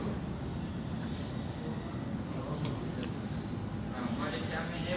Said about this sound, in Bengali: দুইটা বিমান একসাথে